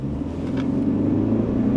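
An Alfa Romeo Stelvio engine rumbles steadily and low while accelerating, a continuous deep drone heard from inside the vehicle with no talking.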